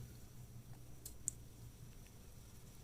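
A computer mouse gives one or two faint, sharp clicks while software settings are changed, set against a quiet background hum with no talking.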